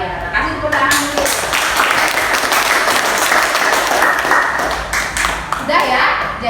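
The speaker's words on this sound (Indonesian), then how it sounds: "Terima kasih tepuk tangan dulu." Classroom applause from a group of students, steady clapping filling the room for several seconds, loud and close, fading briefly near the end before a final burst.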